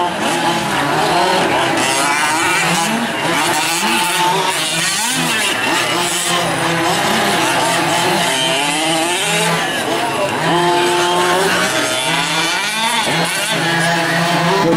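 Fifth-scale RC buggies, two- and four-wheel drive, racing around a track: continuous buzzing small-engine whine with repeated rev swells and drops as they pass through turns, loud and close under a commentator's talk.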